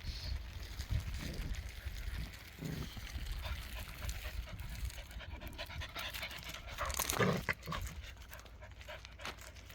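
A dog pants in quick, breathy bursts through a mostly steady, noisy background, with occasional snuffling and a louder scuffle near the end; faint distant voices appear briefly.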